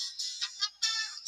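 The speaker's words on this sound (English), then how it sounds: "no one else has that ringtone in a store, so I always know it's me" A mobile phone ringtone plays a short, fairly quiet electronic tune of bright stepped notes with brief gaps between them, heard alone.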